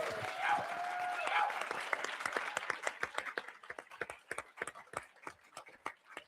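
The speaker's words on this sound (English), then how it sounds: "I think we need a big round of applause for all the candidates" An audience at a California gubernatorial debate applauds loudly at first, then the clapping thins out into scattered individual claps before fading.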